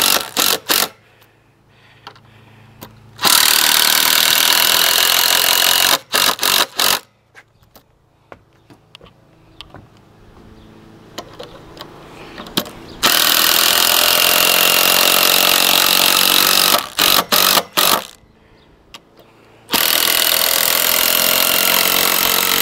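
A Makita power drill driving screws into wood for a deck hand rail whines loud and close in several long bursts, separated by quiet pauses and brief clicks.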